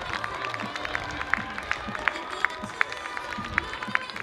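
Spectators at a children's spring cross-country athletics race clap in a steady rhythmic beat for a young runner finishing, with crowd noise and talk underneath.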